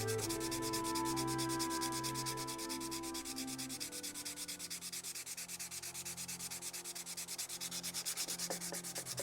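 Fine steel wool rubs steadily over a bone and wood knife handle sealed with a tung and linseed gunstock oil finish, a close, continuous scratchy hiss in even back-and-forth strokes with no talking.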